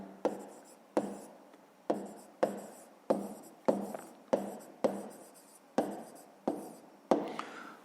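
Hand writing on paper with a pen, a series of about a dozen sharp tapping strokes at a steady rhythm, each fading quickly, close and fairly quiet with no voices.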